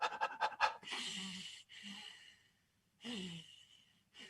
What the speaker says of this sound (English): just put your hand over your mouth and breathe through your nose